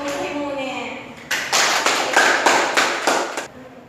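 A classroom of students at a school in Vientiane claps to welcome new classmates, a short voice followed by about six loud rhythmic bursts of group clapping in unison.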